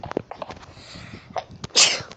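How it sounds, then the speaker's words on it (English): A single loud, close sneeze bursts out near the end after a few quick breaths and small mouth noises. "I just sneezed."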